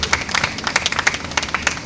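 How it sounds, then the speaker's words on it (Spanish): Congregation clapping during a Spanish-language church service, a brisk burst of many hands striking together in quick, uneven rhythm, fairly close and continuous for a couple of seconds. "Dale un aplauso al Señor en este día."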